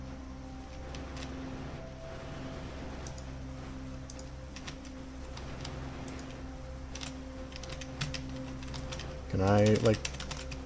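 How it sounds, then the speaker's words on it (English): A computer keyboard clicks lightly in scattered bursts under a steady low hum during play of the video game Factorio. A person speaks briefly near the end, over a louder burst of sound. "You can hear my keyboard a bit."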